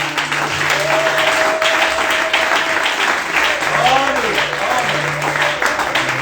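A church congregation applauding and cheering for Jesus during a morning worship service, dense continuous clapping filling the room with a preacher's voice carrying over the top.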